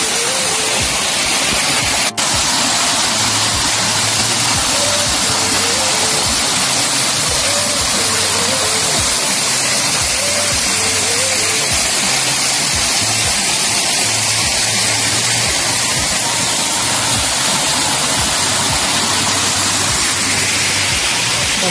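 A steady, loud roar of the Khuludi waterfall fills the whole stretch, constant rushing water with a low rumble and one brief sharp knock early on.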